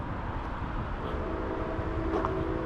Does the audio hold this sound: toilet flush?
no